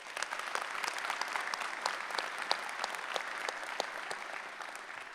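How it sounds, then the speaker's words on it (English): An audience at a police academy graduation ceremony applauds steadily, a dense even patter of clapping from many hands that holds throughout. "please give yourselves a round of applause"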